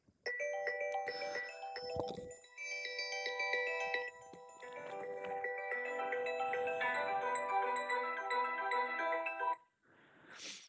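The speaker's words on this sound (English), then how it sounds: "you heard that my phone was ringing in the background" A melodic electronic ringtone plays steadily for several seconds at moderate distance, chiming tones repeating, then stops abruptly.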